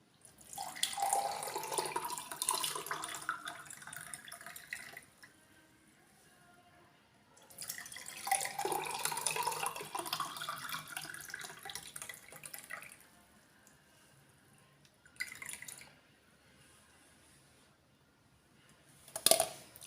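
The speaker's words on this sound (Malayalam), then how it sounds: "ഇത് ഗ്ലാസ്സിലേക്ക് അരിച്ചു മാറ്റാം." Chilled butterfly pea flower water is strained and poured into two glasses, giving two long trickling pours with dripping, a short splash, and a final drip, fairly quiet with pauses between.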